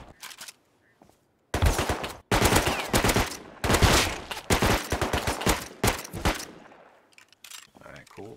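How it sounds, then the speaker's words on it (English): Long bursts of rapid SMG fire from the video game Rust rattle loudly and close, separated by brief gaps, with someone talking between and over the shots. "just gonna roll with this SMG and take all these guys out real quick at this point"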